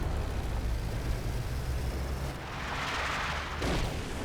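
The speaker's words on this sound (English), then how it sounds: "King shell there from the British AT gun." A British anti-tank gun fires a shell in a World War II strategy video game, giving a loud, booming blast with a rumbling tail over steady low battle noise.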